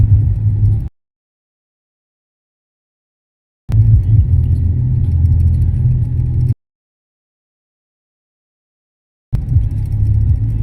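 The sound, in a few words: road traffic, cars passing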